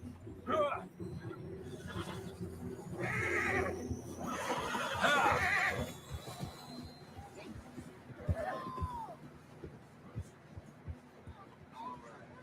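Horses in the Red Dead Redemption 2 video game: a whinny rises and falls over a couple of seconds, with a few shorter horse snorts and calls after it, heard beneath a low background hum and a few quiet incidental sounds.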